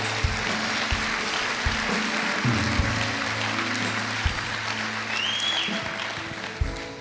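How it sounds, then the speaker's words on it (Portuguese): A church congregation applauds the Lord during a sermon, producing a continuous dense wash of clapping with scattered louder hits throughout, steady and full without any pause. "aplauda o Senhor"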